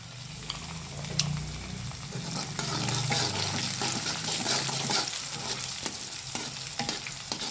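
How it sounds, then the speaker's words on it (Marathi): Asafoetida drops into hot oil for a fenugreek and gram-flour dish, giving a steady close sizzle of frying with scraping stirs and small utensil clinks throughout. "हिंग टाकत आहे।"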